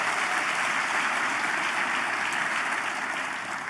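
Sustained, dense applause from a large audience at a national town hall, steady and loud for the whole stretch, with no voices over it.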